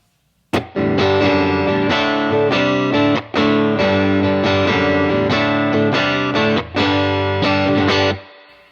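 Loud, saturated electric guitar playing a rhythmic chord pattern through stacked UAFX Dream '65 and Woodrow amp pedals, thick and sustained, with short gaps between phrases and no voices.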